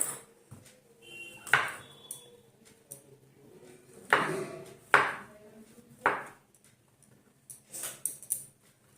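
A knife trimming the stems off button mushrooms on a board, heard as several separate, sharp chopping knocks spaced a second or so apart, close, with faint handling sounds between cuts.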